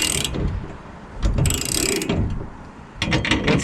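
Wrench tightening a nylon lock nut on an Erickson truck rack bar, giving close ratcheting clicks in several short bursts with brief pauses between.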